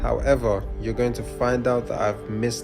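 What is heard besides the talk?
None of the usual background noises is heard.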